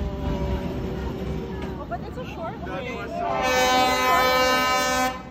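Train rolling through Hanoi's narrow train street between houses, a steady loud rumble building toward the end, with a sustained horn-like tone, crowd chatter and voices talking over it.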